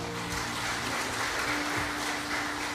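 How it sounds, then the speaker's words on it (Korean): A church congregation at Sunday worship gives a round of thanks to the Zion choir, a steady wash of clapping from many hands filling the sanctuary evenly for the whole stretch. "시온 찬양대에도 감사의 박수를 드립니다."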